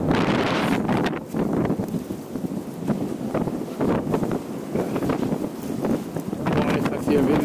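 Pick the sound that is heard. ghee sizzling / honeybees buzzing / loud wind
loud wind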